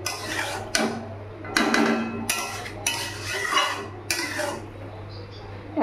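Chopped banana flower (mocha) being stirred and mixed in a metal pan, several scraping, clattering strokes of a utensil against the pan coming in uneven bursts, close and fairly loud with a low steady hum beneath.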